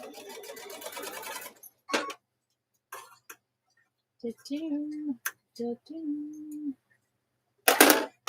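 A short burst of sewing machine stitching down a line on a block-of-the-month quilt block is followed by a few clicks and a person talking.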